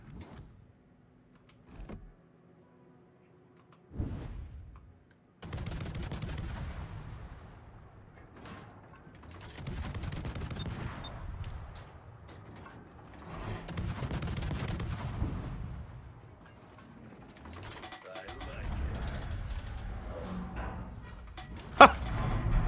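Naval gunfire in World of Warships, with a destroyer and an Atlanta cruiser trading shots, heard as repeated deep booming salvos and rolling rumbles, some loud and some more distant, over about twenty seconds without talk.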